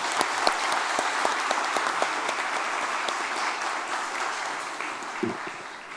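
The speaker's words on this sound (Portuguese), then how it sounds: "Então eu queria uma salva de palmas para o prefeito." Audience at a municipal autism spectrum disorder symposium in Cubatão applauds the mayor: steady, dense clapping from a full room, sustained evenly throughout with no voices over it.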